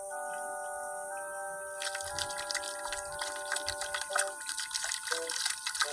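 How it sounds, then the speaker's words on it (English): Water runs from a tap while a toothbrush is rinsed: a steady gush starts partway through and carries on with spattering, uneven splashes, fairly close, under a faint high background tone. "you turn the water on again and rinse off your toothbrush"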